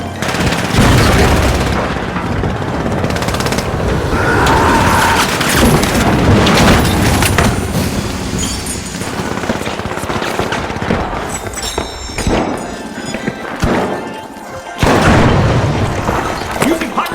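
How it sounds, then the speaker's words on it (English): Pyro grenade blasts and heavy gunfire in a competitive shooter match, booming bursts and rattling shots layered densely over a continuous roar, with a commentator speaking throughout. "Using pyro grenade."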